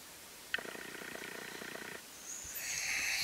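A house cat purring, a soft rhythmic rumble for about a second and a half, close and fairly faint, followed by a rising hiss of background noise.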